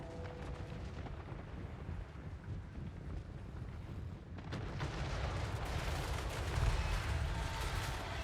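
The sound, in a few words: gunners firing guns in video game Total War Warhammer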